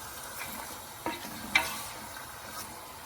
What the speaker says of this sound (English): Give it a good stir, and we will lower the heat and cover this for about 10 minutes